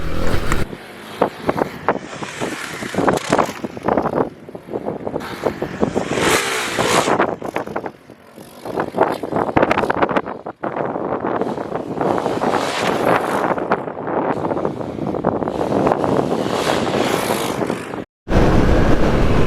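A Kawasaki KLX300 dual sport motorcycle rides around a motocross track, its engine revving and surging continuously under heavy wind noise, loud and close, with a brief cut near the end.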